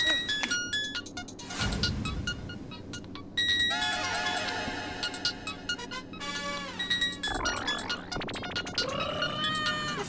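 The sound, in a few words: mobile phone ringing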